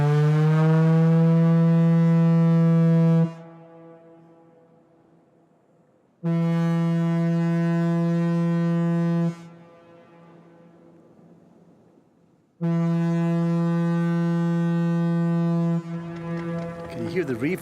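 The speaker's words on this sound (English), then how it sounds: "In a minute and a half, the foghorn's going to blow." Lighthouse foghorn sounding a deep steady tone of about 465 hertz, three long blasts each lasting about three seconds, separated by pauses where the reverb dies away, loud and close.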